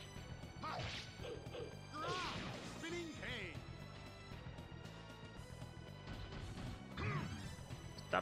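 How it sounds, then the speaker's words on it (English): Fist punches smash and thwack in The Legend of Dragoon, an axe-wielding fighter hitting with his bare hands; several sharp impacts land among game music and effects while a person talks over them. "Punch, punch, punch."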